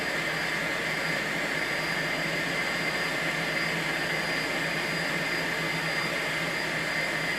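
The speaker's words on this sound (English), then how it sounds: "the little 10-inch bandsaw by Sears, Craftsman, I recently finally got running again" A Sears Craftsman 10-inch bandsaw runs steadily in a workshop, a constant loud motor whine and blade hum with no breaks and no talk over it.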